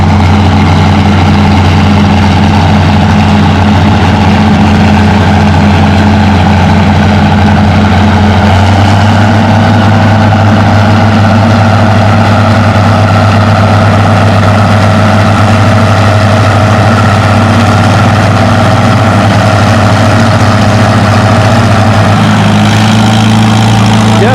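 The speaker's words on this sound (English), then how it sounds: "It's a Massey Ferguson 97 diesel." A Massey Ferguson 97 diesel tractor pulls a sled in an 8,000-pound class at a tractor pull, its heavy engine droning loudly and continuously with a deep, steady rumble and no break throughout.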